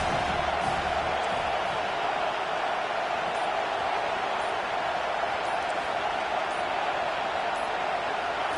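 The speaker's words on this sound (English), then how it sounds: "this crowd trying to help keep them there" A college football stadium crowd roars in a dense, unbroken wall of noise, loud and sustained throughout as fans try to keep the visiting team pinned deep in its own end.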